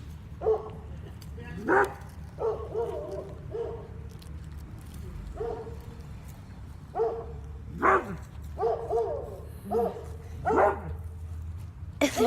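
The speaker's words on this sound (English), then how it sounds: "If there's two dogs barking right now, each one's barking at two different people." Two dogs bark in a series of sharp, fairly close barks spaced irregularly across the stretch, with a person talking between and under them.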